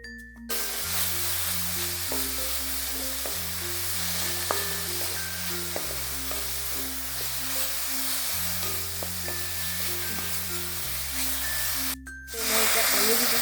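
Ginger garlic paste sizzles steadily in a pan while paneer curry is cooked, a continuous close frying hiss under a layer of background music, with a brief gap and stir near the end.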